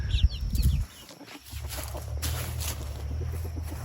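Spring chickens on a homestead, clucking in short bursts close by at first, then softer intermittent calls over a steady low outdoor rumble.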